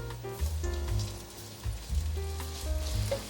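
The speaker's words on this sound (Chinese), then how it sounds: "用回原锅，开中小火，把香菇放进来炒香。" Shiitake mushrooms stir-frying in a hot wok over medium-low heat, a steady close sizzle with a few soft scrapes under a low background hum, no talking.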